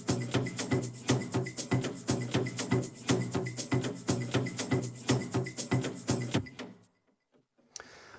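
A drum and percussion group plays through an SSL Fusion Violet EQ in a mix, a steady driving rhythm of punchy hits with busy percussion on top, loud and continuous for about seven seconds before cutting off, then a brief faint tail.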